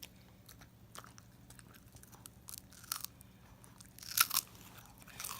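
A dog crunches and chews a peanut butter birthday treat held in a hand, giving soft irregular crunches and wet bites close by, with a few louder snaps toward the end and no talking.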